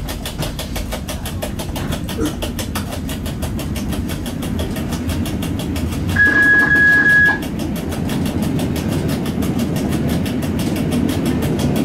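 An EN57 electric multiple unit pulls away and rolls along the Sędziszów–Katowice line, heard from the cab. Its wheels beat a steady, close clickety-clack rhythm over a continuous low rumble, and a brief sustained tone sounds midway.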